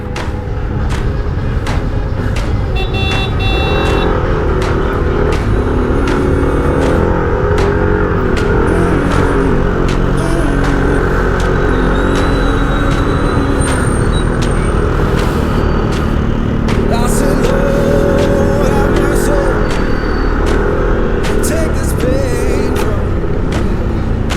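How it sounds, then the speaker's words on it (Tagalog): Street traffic in San Isidro, on the way up to Antipolo Hills, Philippines, from a rider aboard a Yamaha Nmax V2 scooter: a steady engine drone and wind with car and motorcycle noise all around, plus scattered horn-like chirps, with no talk. "Traffic dito."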